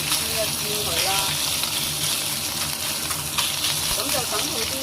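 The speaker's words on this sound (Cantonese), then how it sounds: "擺咗落去就唔好喐佢住啦，等佢煎一煎佢啦。" Pork belly sears undisturbed in a pan over medium-high heat, a continuous close sizzle filling the clip, with faint background voices mixed in.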